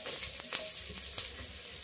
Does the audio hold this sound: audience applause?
no